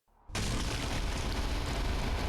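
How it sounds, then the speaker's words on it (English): A loud, sustained blood explosion in Castlevania: Lords of Shadow – Mirror of Fate, bursting in abruptly after a brief quiet lead-in and roaring on as dense, broad noise without any voices. "That was a blood explosion."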